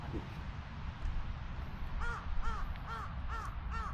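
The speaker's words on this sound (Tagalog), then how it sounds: "Ay, uwak yun." A crow caws in a quick series of harsh, nasal calls against a steady outdoor background hum, moderately close and with no voices.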